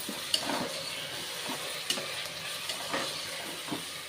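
Potato and pavta rice mixture stirred in a frying pan, a steady close sizzle broken by soft, regular scrapes of the spoon roughly every second.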